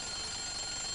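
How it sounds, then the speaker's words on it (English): An alarm clock rings with a continuous, steady bell ring that is loud and alone, holding without a break for about a second. "It's the alarm clock ringing."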